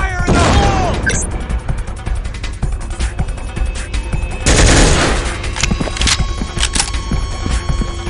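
A grenade blast and gunfire crash through the shooter game Soldier of Fortune II, with bursts of shots and a heavy explosive roar midway over constant loud game noise.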